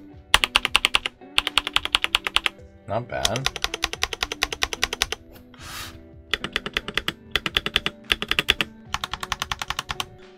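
Bursts of rapid clacky typing on a Redragon K656 Garen Pro mechanical keyboard with slightly loose stabilizers, loud and close, separated by brief pauses, with a man's short spoken remark in between.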